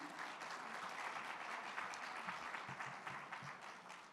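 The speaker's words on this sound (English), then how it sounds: "I'd like to give a round of applause to our inductees" Steady applause from a crowd at an awards induction ceremony, dense and continuous clapping that carries on throughout, heard from a moderate distance.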